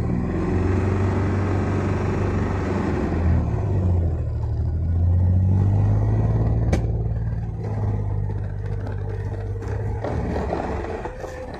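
A car climbs uphill during a driving lesson, its engine a loud, steady low rumble that swells as it accelerates, with rattling and clatter from the cabin and no voices.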